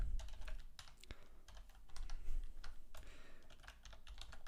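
Rapid, uneven clicking on a computer keyboard, with clusters of keystrokes and occasional louder taps, close and clear with no voices.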